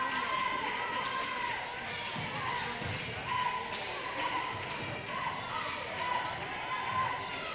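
Cheering and shouts from the Alberta and Ontario team benches at a women's netball bronze medal game at the Canadian nationals, a steady crowd din in an indoor hall with ball bounces and thuds, under continuous commentary.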